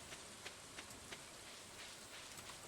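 Rain in the video game Stardew Valley, a faint, steady patter with occasional soft drop ticks and no voices.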